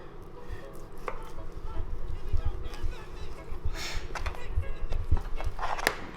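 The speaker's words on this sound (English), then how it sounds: "So I always do about 2 finger widths and just kind of cut it through." A knife slicing raw picanha beef into thick steaks on a cutting board, giving repeated chopping thuds and scrapes in a steady rhythm, close and fairly loud, with some background room noise.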